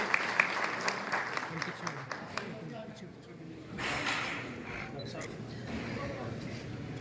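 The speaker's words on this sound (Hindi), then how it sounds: "तालियों से हमारे मेहमानों का स्वागत करें।" Faint applause from an audience at a Manav Seva Sangam foundation day function welcoming guests, with scattered claps that rise into a brief steadier patter, heard at a distance beneath ongoing talk.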